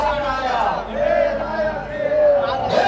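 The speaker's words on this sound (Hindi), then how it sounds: "जो युवाओं की भीड़ है वो संजय सिंह के साथ है।" A crowd of young people walking with an Aam Aadmi Party foot march in scorching summer heat, many voices shouting and chanting together in loud sustained waves, close and dense.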